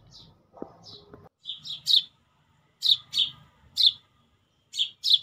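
Small birds chirp in a home garden in short, bright, clustered calls repeating every second or so, fairly close and clear against a quiet background with faint low rustling.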